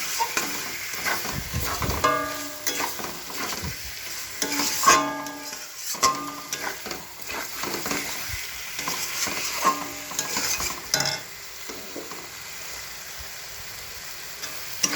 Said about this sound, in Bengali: এবার এটাকে সুন্দর করে কষাতে হবে